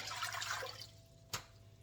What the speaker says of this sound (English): pour in the 4 cups of water